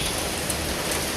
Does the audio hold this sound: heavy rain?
yes